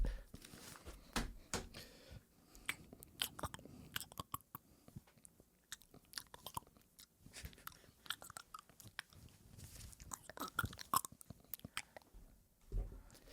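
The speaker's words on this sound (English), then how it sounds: "thank you for chewing into the microphone as you were putting your shirt back on" Close, loud chewing and crunching right into a podcast microphone, with wet bites and smacks repeating irregularly and little talk.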